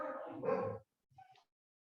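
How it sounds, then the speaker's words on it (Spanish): Dogs at home bark in two short bursts, the first a longer loud run of barks, the second fainter and brief after a pause, with nothing else heard. "Voy a esperar que mis perros se callen un rato, porque están ladrando."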